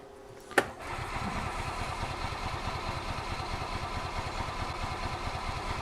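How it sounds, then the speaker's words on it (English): A 2005 Club Car Precedent gas golf cart engine cranks with a steady, rapid rhythmic chugging after a sharp click, continuing evenly and fairly close for several seconds without catching. "We're going to use the battery charger to assist us with our cranking here."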